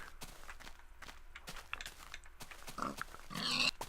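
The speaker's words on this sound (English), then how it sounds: "look at all the pigs" Pigs in the video game Minecraft grunt and oink in a cluster near the player, mixed with quick footstep taps, building to a louder burst of squeals near the end.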